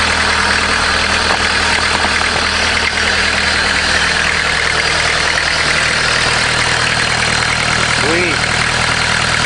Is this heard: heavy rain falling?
no